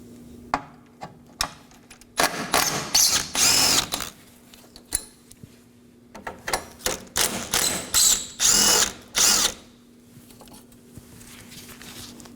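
A power tool backs out 10mm bolts from the core brace of a 2018-2024 Chevrolet Equinox, sounding in two close clusters of loud, stuttering whirring bursts separated by a quieter pause.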